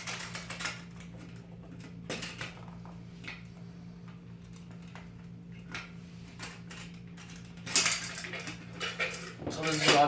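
A metal camping cook pot and stove set, with a fuel canister, is handled, giving scattered light clinks and clanks against a low steady hum. A few louder rattles come near the end.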